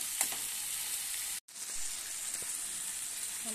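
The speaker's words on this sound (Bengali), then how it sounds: "এটা ভালো করে ভেজে নেব।" Potato curry fries in a pan with a loud, steady close sizzle and crackle, broken by a brief silent gap partway through, then continuing with faint stirring sounds and no talking.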